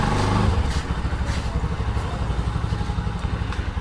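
Bajaj Pulsar NS200 motorcycle taken out of a narrow lane, engine idling with a steady close low putter and light clatter.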